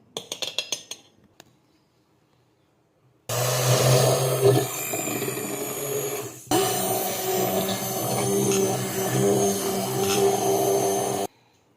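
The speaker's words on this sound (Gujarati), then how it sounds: "છાશ અને ચણાના લોટને આપણે બ્લેન્ડરથી મિક્સ કરી લીધું છે જેથી કરીને એ પ્રોપર મિક્સ થઈ જાય" A blender whirs loudly and steadily through a batch of buttermilk and gram flour batter for about eight seconds, with a brief hitch partway through. A few clinks sound beforehand, followed by quiet.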